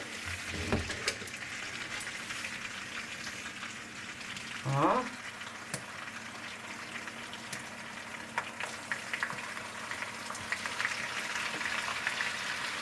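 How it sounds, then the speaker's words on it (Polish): Chicken liver fries in a large amount of melted butter, giving a soft, steady sizzle and bubbling with a few clinks and a brief clatter, faint throughout and with no voices. "I teraz wrzucamy wątróbkę do tego masła, do tej dużej ilości masła i robimy wątróbce taką kąpiel w tłuszczu"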